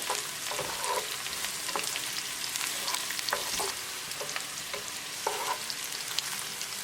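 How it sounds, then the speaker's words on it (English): Onion, ginger and green chili for potato and pea pulao fry in a pan under a steady sizzle, with frequent close scraping and clinking from a spoon stirring throughout, no one talking. "Now we'll add ginger and green chili. Mix it well."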